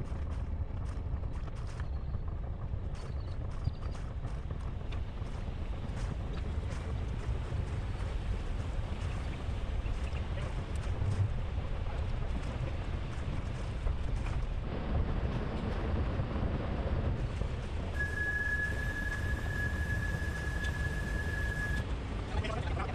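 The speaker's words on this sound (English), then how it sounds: "There's one of the oyster boats going to Kupang today." A big oyster boat bound for Kupang motors past on the Arafura Sea, a steady low engine drone mixed with wind buffeting the microphone and water noise, continuous and fairly distant.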